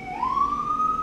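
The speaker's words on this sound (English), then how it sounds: "it's probably picking up the ambulance that's driving literally down my street" Ambulance siren on a residential street, heard faintly through a window as a single rising wail that holds a steady tone, distant and muffled.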